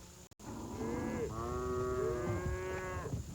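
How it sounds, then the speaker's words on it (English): Cattle mooing near a fishing spot at a pasture, several long drawn-out moos overlapping one another, fairly close and loud over a steady background hum. "Must be feeding time for those cows over here."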